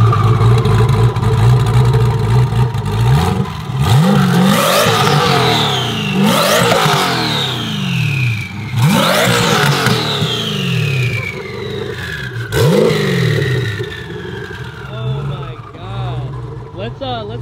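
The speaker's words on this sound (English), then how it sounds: "please start this thing up and give me a couple revs." A twin-turbo LSX engine in a lightweight 800-horsepower car fires up and is revved repeatedly, sharp rising roars that fall back to a loping idle, loud and close, with turbo whine and occasional talk mixed in.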